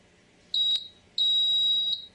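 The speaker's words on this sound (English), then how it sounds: "there's our buzzer." An Arduino-driven piezo buzzer on an LCD project board emits two loud, piercing electronic tones, a short one followed by a longer steady one, close and alone.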